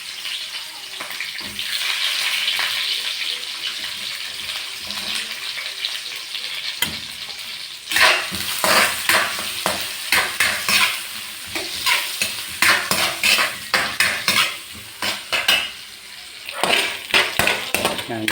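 White onions and garlic sautéing in a pan, a constant sizzle of frying joined by repeated scraping, clattering strokes of stirring that grow busier and louder in the second half, with no talk.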